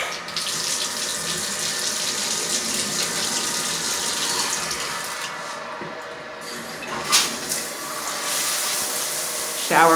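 A shower running into a bathtub in a house being inspected before move-in, a close, continuous spray of water with brief clanks and shifts in the flow toward the end.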